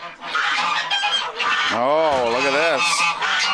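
Farm birds calling close by with loud, honking, goose-like cries in a rising and falling series, among them Muscovy ducks kept on a farm, while a person briefly speaks.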